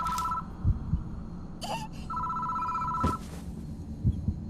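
A telephone rings in the horror adventure game Death Mark, two long electronic ring bursts separated by a pause, loud and clear over a low, eerie background.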